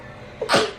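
A single sharp sneeze, quick and close, with a brief intake just before it over a quiet background.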